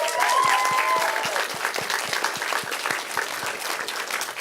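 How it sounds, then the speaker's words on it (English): A crowd at a school panel with Blue Sky Studios animators gives a full round of applause. Dense, even clapping fills the whole stretch, holding steady and close without any talk over it. "So can we give them a round of applause?"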